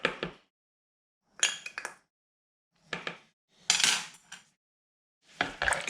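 A tool stirring mica powder into rubbing alcohol in a small container while making melt-and-pour soap: five short bursts of clinking and scraping separated by silent pauses, close and clear, with no talk.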